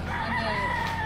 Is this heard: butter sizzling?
no